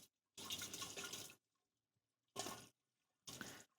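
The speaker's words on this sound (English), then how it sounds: "We're going to strain our sealer out as we pour it into our sprayer here." Paver sealer poured through a strainer cone into a sprayer makes three separate splashing pours, a long one followed by two short bursts, close and clear with silence between them.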